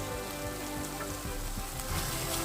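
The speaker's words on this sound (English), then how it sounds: "We will fry this for another 2 to 3 minutes until the raw smell goes away" Ginger garlic paste frying with softened tomatoes in a pan produces a continuous close sizzle with fine crackling and small pops, steady and moderately loud, with no voices.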